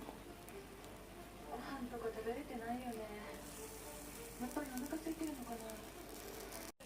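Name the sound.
takoyaki batter frying in hot oil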